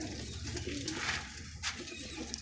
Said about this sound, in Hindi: लो जी ये कबूतर है